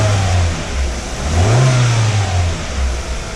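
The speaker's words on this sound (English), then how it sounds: "So let's bring the revs up and see what happens." A Hyundai i20 engine, repaired after a cam timing fault, is revved up from idle and then settles back down, giving a loud, close engine note that rises and falls once.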